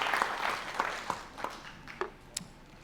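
Scattered, sparse hand claps from a church congregation during a Spanish-language sermon, a handful of distinct claps spread unevenly over a few seconds, fairly faint and distant, with no talk over them.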